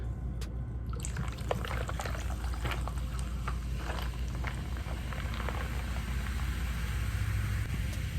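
Soda pours steadily into a cup, a continuous fizzing, bubbling stream running loud and close for several seconds, with the carbonation crackling throughout.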